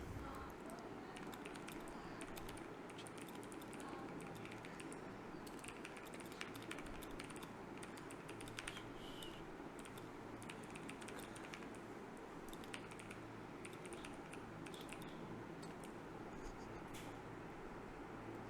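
Steady, rapid tapping on a computer keyboard continues for the whole stretch, close and fairly quiet, with irregular key clicks over a low constant hum.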